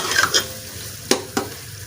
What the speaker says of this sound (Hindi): अब इसको 2 मिनट भूनना है